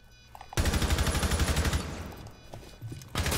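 Gunfire in the tactical shooter Rainbow Six Siege: a loud, close burst of rapid automatic shots lasting about a second, then quieter scattered sounds, and a further burst at the end.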